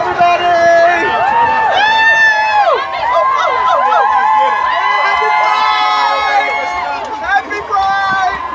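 Dense crowd at the Chicago Pride parade in 2019, a continuous loud babble of many voices with whoops and cheers rising and falling throughout, close around the listener.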